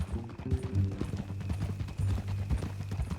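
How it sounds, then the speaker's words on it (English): Horse hooves clip-clopping in Red Dead Redemption 2, a close, irregular run of clear knocking steps with a low snort-like rumble beneath, no talk over it. "That a new horse?"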